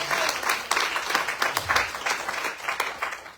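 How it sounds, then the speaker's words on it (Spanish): Loud applause from a church congregation during a Spanish-language worship service, dense steady clapping sustained throughout with faint voices mixed in. "De otro aplauso bien fuerte"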